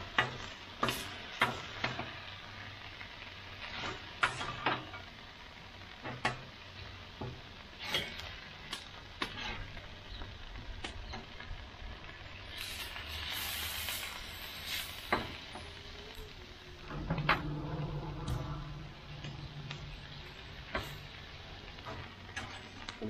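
Fajita peppers and onions sizzle on a Blackstone griddle, a continuous low frying hiss broken by frequent sharp spatula clicks and taps, growing busier toward the end.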